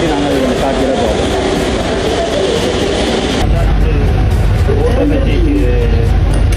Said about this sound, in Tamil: ஆட்டோமேட்டிக் டிரைவர் இல்லாத மெட்ரோலாம் போயிட்டு வந்துருக்கு